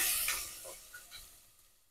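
Onion and curry leaves frying in oil, a brief bright sizzle that fades over a couple of seconds, close and fairly quiet.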